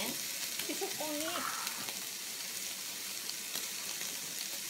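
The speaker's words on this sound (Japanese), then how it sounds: "さっとイカを炒めて、ね、さっと炒めて強火ですね" Squid stir-fried over high heat in a pan, a steady bright sizzle throughout with brief stirring scrapes, while someone talks over it.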